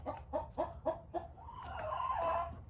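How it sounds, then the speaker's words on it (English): Chickens cluck nearby in a quick series of five short, rhythmic notes, then break into a longer, louder squawking call over a low background hum. "Sorry about the chickens right now."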